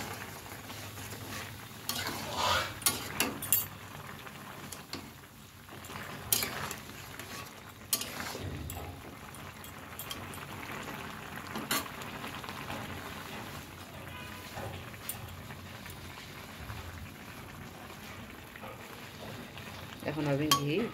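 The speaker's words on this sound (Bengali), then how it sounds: "দু একটা আলু এভাবে ম্যাশ করে দেওয়া যেতে পারে" Potatoes and cauliflower are mashed and stirred into a simmering potato, cauliflower and soybean curry, with repeated scraping, tapping and clattering of a spoon against the pot over a low bubbling sizzle, no talking.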